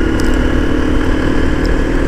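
Steady, dense engine drone of a Hero Hunk 150R motorcycle held at about 5000 rpm in fourth gear, a continuous loud hum close by with no speech over it.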